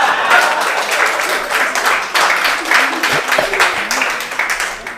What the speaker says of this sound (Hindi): उसके लिए भी तालियां बजाओ जो सबकी सेटिंग करता है